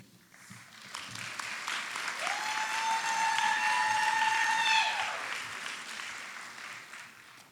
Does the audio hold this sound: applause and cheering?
yes